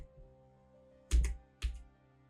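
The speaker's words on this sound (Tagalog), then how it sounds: "Parang may nagtatype." Two short, sharp bursts of clacking keys, like quick strokes on a mechanical keyboard, stand out close and clear against a quiet, humming background.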